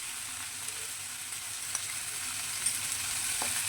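Mango pickle goes into a hot pan with a fish head dish, giving a quiet, steady sizzle with a few faint clicks of stirring.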